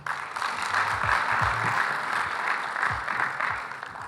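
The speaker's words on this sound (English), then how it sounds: "Please, round of applause for him." Audience applause welcoming a speaker onto the stage at a plenary session of a large conference, a steady broad wash of clapping that holds at even strength throughout, with faint low murmurs beneath.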